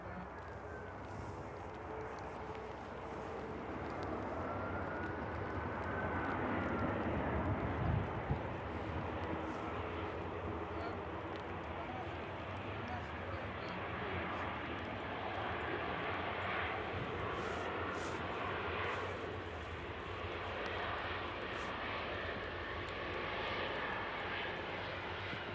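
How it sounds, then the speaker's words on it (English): EasyJet airliner with wingtip sharklets touching down at an airport, a sustained jet engine roar that swells midway and stays loud across the runway, heard from a distance without speech. "EasyJet touching down now."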